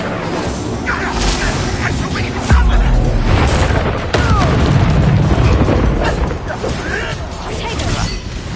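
An Incendio fire spell bursting in Hogwarts Legacy, a loud sudden boom and crash that sets off a sustained roaring rumble, with further heavy impacts amid dense game noise.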